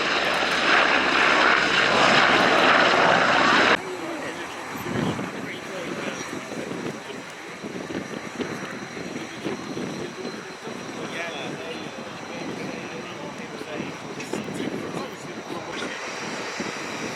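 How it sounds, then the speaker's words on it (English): A Globemaster III transport aircraft flies at the RIAT airshow, a loud steady jet engine roar with wind buffeting on the microphone and a voice talking over it. "Globemaster III transport aircraft on its way."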